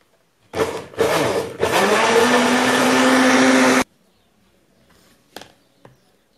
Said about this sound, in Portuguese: Coloquei metade e vou bater.